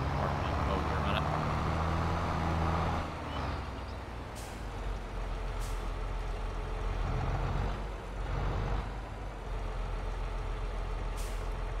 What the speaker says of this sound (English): Once the other truck passes, we'll have him drive over there.